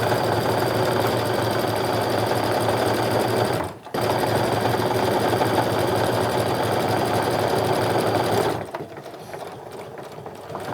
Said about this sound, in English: I'm going to sew along until my needle is down in the first part of that seam allowance where the cork is